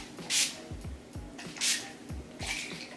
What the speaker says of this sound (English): I'm gonna use the Urban Decay All Nighter Makeup Setting Spray. So just a few sprays of this